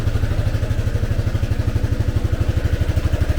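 A 1986 Honda Helix scooter engine runs steadily on a stand with its rear wheel spinning, a loud, close, even putter with a fast regular pulse and mechanical clatter.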